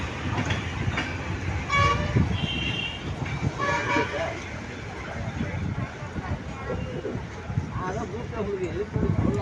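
A train pulling into Erode Junction at a busy station, rumbling wheels and a horn toot heard nearby beneath someone talking and background station chatter.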